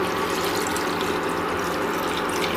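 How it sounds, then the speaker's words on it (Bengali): Water pours steadily and loudly into a pan of vegetable curry with drumsticks, potato and eggplant, a continuous close rushing splash with no talking. "এবার পরিমাণ মতো জল দিয়ে দেব"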